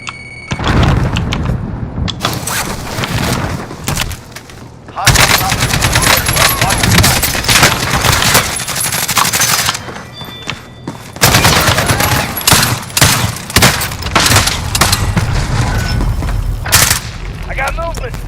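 Call of Duty battle erupting in loud, dense bursts of machine-gun fire and booming grenade blasts, near and continuous with brief lulls, a voice calling out over the combat.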